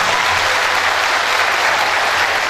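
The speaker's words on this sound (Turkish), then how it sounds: "Size yakışır bir alkış isteyelim." A Turkish folk music concert audience breaks into loud, dense applause, a thick steady roar of clapping that runs unbroken for the full two and a half seconds.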